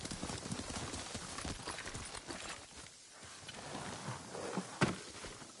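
Horse hooves clopping steadily at a walking pace in Ghost of Tsushima, fairly close, with a sharp knock near the end.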